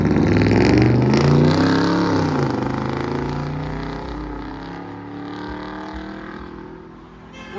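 A 2006 Ram 1500 truck with dual straight pipes revs hard and loud up close, the engine note climbing sharply and then easing into a rumbling, burbling idle that fades slightly toward the end.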